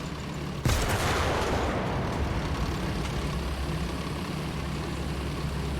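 A tank cannon fires once in War Thunder, a sudden loud blast followed by a long rumbling decay over a continuous tank engine drone.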